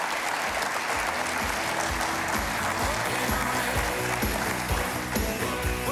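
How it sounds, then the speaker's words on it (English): A large crowd claps in a full, continuous round of applause at a mayors' event, loud and even throughout, with low thumping hits scattered beneath the dense patter. "How about a big round of applause?"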